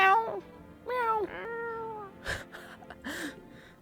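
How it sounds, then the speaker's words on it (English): Video game cat meowing in a game called No, I'm Not a Human, several clear, close meows with rising and falling pitch, followed by soft rustling clicks. "Do I still have the cat though? Kitty cat! Meow! Meow!"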